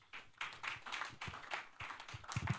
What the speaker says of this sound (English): Can we please give her another round of applause?